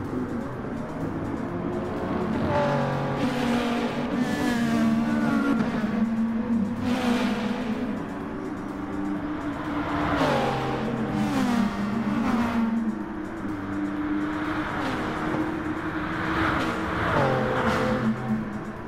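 Race cars roar through a night race in a racing video game at São Paulo, including a Porsche GT3 running side by side with a JAF GT car, engines rising and falling with gear shifts and passes, steady and fairly close.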